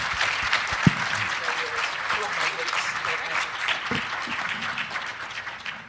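An event audience claps steadily for several seconds after a talk on educational outcomes, a full even applause with a couple of sharper nearby claps and faint voices underneath.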